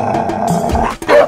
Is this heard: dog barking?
yes